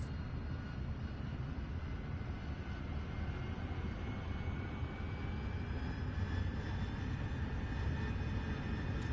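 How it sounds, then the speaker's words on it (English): An AV-8B Harrier jet in DCS World throttles up for takeoff, its engine making a loud, continuous roar and whine that swells slightly while a rising tone sweeps upward; no voices. "Now increase throttle and take off"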